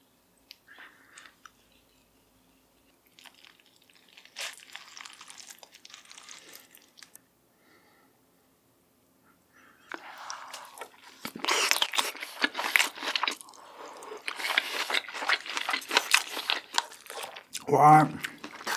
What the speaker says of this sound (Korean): 다음은 스팸으로 만든 돈부리 먹어볼게요.